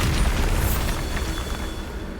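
A Bombarda exploding spell bursts in Hogwarts Legacy as a dense, loud, low rumbling blast that fills the short moment without fading much.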